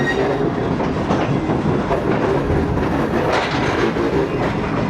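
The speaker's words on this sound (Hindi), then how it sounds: "चलें अब आहिस्ता आहिस्ता ये रोड़ी जंक्शन के यार्ड से निकलेगी ट्रेन" Train pulling out of the Rohri Junction yard, a steady rumble of wheels on rail with rhythmic clickety-clack from the carriages, close and continuous throughout.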